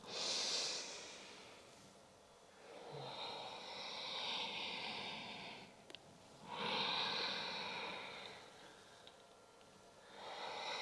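Slow, deep breathing during a yin yoga practice, with long audible inhales and exhales rising and falling in a relaxed rhythm, close and soft.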